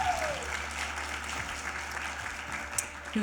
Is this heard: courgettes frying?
no